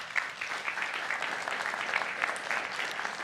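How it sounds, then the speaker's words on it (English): Audience applause at a retirement-sector talk as a presenter returns to the stage, a steady, fairly faint wash of many hands clapping that fills the whole stretch without pause. "I get quite a lot of applause"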